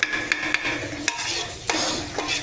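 Mutton biryani gravy in a pot for a 1 kg batch, bubbling steadily while a spoon scrapes and stirs through it, with sharp clicks of utensil against metal over a constant sizzling boil, close and alone.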